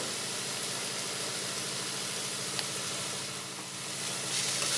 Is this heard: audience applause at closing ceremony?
no